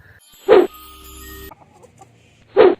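A hen gives two loud, short clucks about two seconds apart, close by, with a faint low hum between them.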